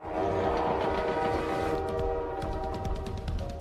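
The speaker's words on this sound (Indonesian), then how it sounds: "lalu menemukan kereta api dan langsung pergi menaikinya" A train in the animated film Abominable rolls along with a heavy, continuous rumble, its horn sounding in sustained tones and faint rhythmic clacking of wheels on rails.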